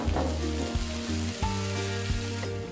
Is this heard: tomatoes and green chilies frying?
yes